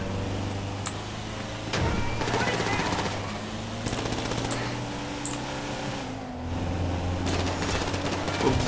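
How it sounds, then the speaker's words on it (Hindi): Gunfire in the video game GTA 5 during a hitman mission car chase, heard as repeated sharp shots over a steady engine drone, moderately loud and scattered across the stretch. "गोलियां बज रही हैं गोलियां बज रही हैं"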